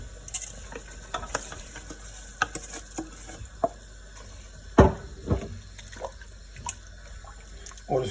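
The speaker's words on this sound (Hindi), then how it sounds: "हमारे पानी को अच्छे से बॉयल आ गया। अब हम इसमें डालेंगे चावल" Rice is tipped into a pot of boiling water for chicken pulao, giving a sharp splash and bubbling amid scattered light clinks and stirring, close by with no talking.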